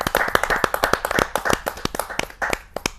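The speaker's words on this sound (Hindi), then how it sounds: "जरा जोरदार ताली के साथ हम उनका स्वागत करते हैं" A kavi sammelan audience clapping to welcome a young poet, a steady run of sharp, fairly loud claps from a modest crowd, close and continuous.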